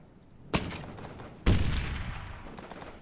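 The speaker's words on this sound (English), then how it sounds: "Guy's shooting the machine gun." Two sharp, loud gunshots about a second apart in the game Operation Flashpoint: Dragon Rising, from a machine gun, each with a short echoing tail over a steady outdoor backdrop.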